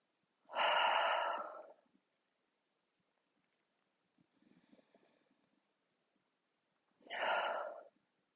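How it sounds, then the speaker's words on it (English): Slow breaths in through the nose and out during a yoga cool-down come as two loud, airy, drawn-out sighs with a quieter breath between them, separated by long silent gaps. "inhale through your nose. Exhale, sigh your breath away."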